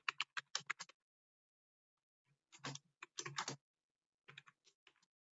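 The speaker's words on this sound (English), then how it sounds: "I'll just type it out before I explain." Quick bursts of typing on a computer keyboard, crisp and close, in three short flurries of clicking keys separated by pauses, with no voice heard.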